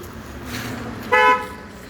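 A car horn sounds once in a short, loud burst on a road during a night ride, rising over steady engine and road rumble as the vehicle comes near.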